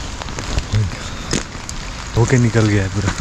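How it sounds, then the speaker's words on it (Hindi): Heavy rain pours during a rainy night of camping in Ziro Valley, a steady close hiss of drops under someone speaking intermittently. "बहुत ज़ोर से बारिश आ रहा है, हर दो मिनट में दो मिनट बाद यहाँ पे बारिश आ रहा है ज़ोर से"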